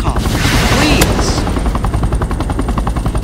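A cargo helicopter in a base-battle video game, its rotor thumping steadily and loudly throughout, mixed with rapid machine-gun fire and chaotic combat noise.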